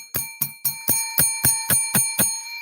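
A bell rings out in about nine quick, evenly spaced strikes, each loud, bright and ringing briefly before the next, on a Sunday in the Midwest, with no talking.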